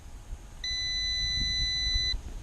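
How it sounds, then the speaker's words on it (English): A single steady electronic beep from a multimeter continuity test on a car's windshield washer pump ground circuit, sustained for about a second and a half, clear against a quiet background. "we're listening for a beep on this ground side"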